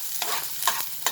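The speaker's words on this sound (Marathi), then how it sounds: "आता ही फोडणी व्यवस्थित शेकून घेऊ।" Garlic and onion tempering fried in a pan, with three distinct stirring scrapes over a soft, steady sizzle, close by and with no voices.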